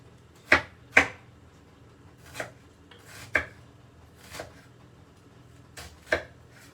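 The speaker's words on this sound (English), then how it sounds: "I'm going to finely chop this onion." A knife chops through an onion on a cutting board in a home kitchen, seven or so crisp, close knocks at uneven intervals with quiet pauses between, no talking.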